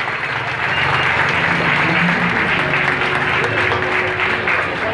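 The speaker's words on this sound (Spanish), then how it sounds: "Pues démosle un fuerte aplauso, por favor." Sustained applause from an audience at the opening of a community development project exhibition, steady dense clapping filling the whole stretch with a faint crowd murmur beneath.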